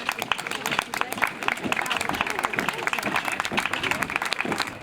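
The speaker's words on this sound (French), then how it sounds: "les pompiers ont défilé dans le centre de Vouvant, applaudis par les habitants." Residents of Vouvant clap as firefighters parade through the town centre for the fire station's 120th anniversary, scattered outdoor applause running steadily beneath a narrator's voice.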